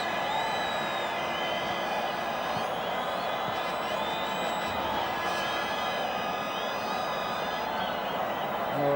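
A stadium crowd at a Kaizer Chiefs vs Mamelodi Sundowns football match roars in a steady, dense wash, with whistles and vuvuzela-like horns layered on top, loud and continuous throughout.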